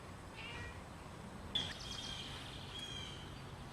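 Cats meow faintly, with a brief high call standing out midway above a quiet background hiss and a few softer cries around it.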